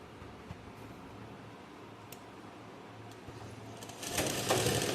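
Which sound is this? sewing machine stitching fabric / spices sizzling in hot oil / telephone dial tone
sewing machine stitching fabric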